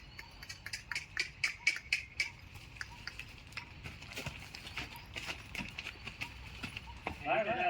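Horse hooves clip-clop in a steady rhythmic run of sharp strikes during a riding session on a farm in Jasdan, loudest at first and then lighter, with voices faintly heard near the end.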